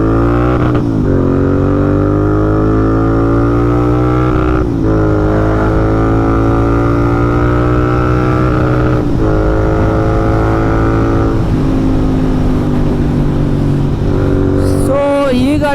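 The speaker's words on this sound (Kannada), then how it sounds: "ಸೊ ಬನ್ನಿ ಓಪನ್ ಮಾಡೋಣ ಗಾಡಿನ." A Royal Enfield Interceptor 650 twin-cylinder motorcycle runs loud and close, its engine note rising and falling through several revs and shifts over a steady throbbing idle, with no talk.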